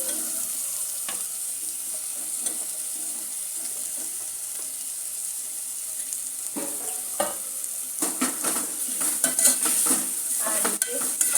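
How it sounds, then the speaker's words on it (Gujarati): Thinly chopped potatoes fry in a pan with tomatoes, giving a soft continuous sizzle, with scraping strokes of a spoon growing busier and louder toward the end, all without talk. "હવે આપણે ત્યાં બટેકા સુધારેલા નાખી દઈશું।"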